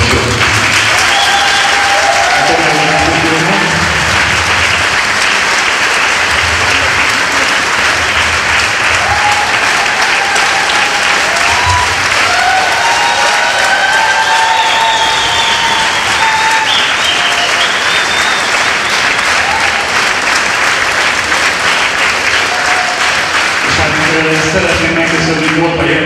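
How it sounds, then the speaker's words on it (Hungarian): Long, loud, steady applause from a large audience at a local Hungarian folk dance event, sustained clapping throughout, with occasional voices and a bit of music showing beneath it. "Kérek egy nagy tapsot!"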